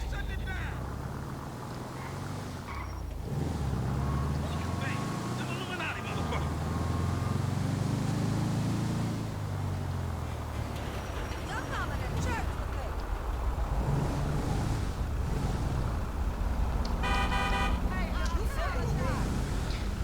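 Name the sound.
VW bus engine driving offroad, from video game GTA 5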